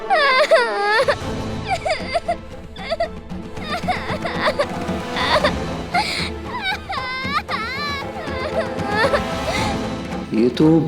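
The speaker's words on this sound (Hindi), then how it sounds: "ये तो बॉन्दिता की रोने की आवाज है।" A young girl cries loudly and continuously, wailing and sobbing in wavering, pitched bursts throughout, with no pause.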